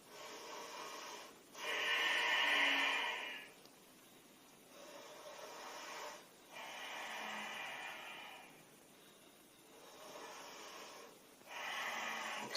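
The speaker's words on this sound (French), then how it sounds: "On prend 3 respirations ici." Three slow breaths in a yoga session, each a soft airy inhale and exhale through the nose, close and quiet with short pauses between them.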